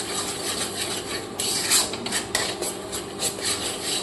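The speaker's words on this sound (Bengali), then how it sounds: "এবার এটাকে খুব সুন্দর করে কষিয়ে নিই" A spatula scrapes and rubs against a pan as a spice masala with tomato paste is sautéed for a Bengali egg curry, producing a close, irregular scraping and clinking over a low, steady cooking hiss.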